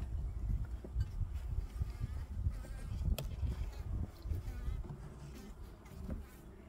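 Honey bees at beehives make a dense, continuous low buzz, close and steady throughout, with a brief sharp click partway through and no talking.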